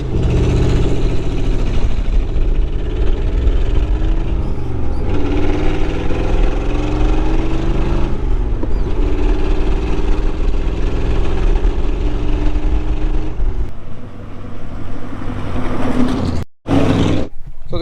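A 1953 Victress S1A runs with a loud, deep engine rumble that holds steady and shifts pitch with the throttle for a long stretch, close by, then cuts briefly near the end.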